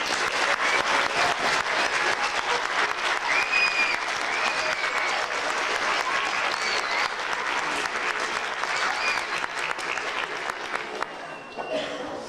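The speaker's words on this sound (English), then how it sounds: "let's give Mrs. B one more round of applause" An audience at a school holiday review in Salem bursts into sustained applause, dense clapping from a large crowd holding steady for about eleven seconds before tapering, with some voices mixed in.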